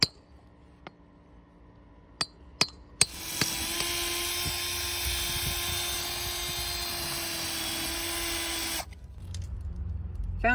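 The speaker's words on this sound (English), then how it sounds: "start drilling the hole in the asphalt" A few sharp taps, then a steady high-pitched power drill with a Milwaukee bit whines for several seconds drilling a hole in asphalt before cutting off.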